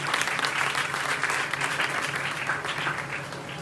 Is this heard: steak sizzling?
no